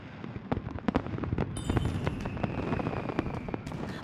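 Fireworks burst in the video game Love and Deepspace, with a dense crackle of many sharp pops and booms in steady succession, and a thin whistle rising partway through.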